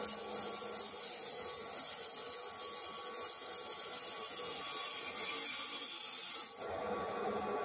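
A woodturning tool cuts into a spinning sycamore bowl on a lathe, shaping its foot: a steady, dense, close scraping hiss that carries on without break and briefly dips near the end.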